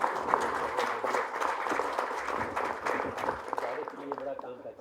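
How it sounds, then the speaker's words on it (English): Audience applause greets honoured guests at the Pharma Ratan 2016 award ceremony, a dense, steady patter of many hands clapping in a hall, with voices mixed in under it. "So we can have claps."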